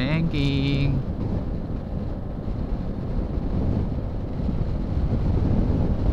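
Loud, steady wind buffeting a microphone while driving, a low rushing roar throughout, briefly joined by a short voice near the start.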